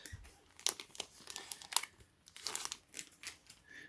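Lightweight online-version trading card packs being torn open one after another, with close, crisp crinkling and tearing of thin foil wrappers in quick irregular bursts.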